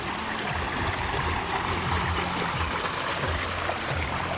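Waterfalls and streams flow around little bridges, making a steady, even rush of water that fills the scene without break.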